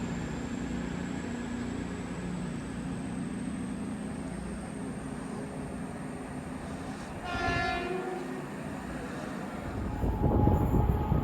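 A CrossCountry passenger train departs a station on the service to York via Birmingham New Street from Reading. A steady rumble of rolling stock and engine drone builds throughout, with a brief high horn-like tone midway and louder passing noise at the end.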